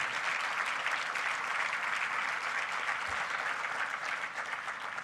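Loud, steady applause from a large gathering welcomes a guest, a Gujarati newspaper editor, at a Yogi Divine Society event in Canada. Dense, unbroken clapping fills all five seconds with no voices over it.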